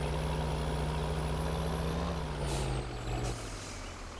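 A heavy truck engine runs steadily in Farming Simulator 2013, with a sustained low drone, a slight dip in pitch near the end and short hissing bursts like air brakes releasing, loud and continuous with no talk.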